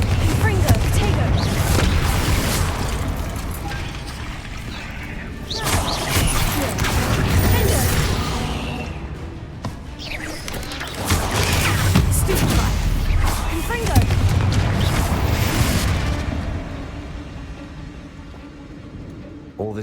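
Confringo blasting spells going off in a Harry Potter–style video game, rolling booms and crashing bursts layered over a constant rumble, swelling and fading in waves across the stretch, with a voice speaking over parts of it.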